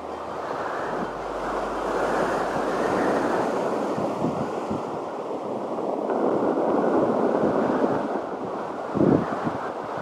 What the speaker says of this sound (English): as the water comes in and then it recedes, it's that sound it makes as it carries the rocks off.